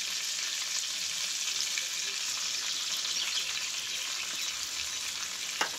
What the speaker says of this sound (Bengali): এবার আলুটা আমি ভালো করে লাল লাল করে ভাজবো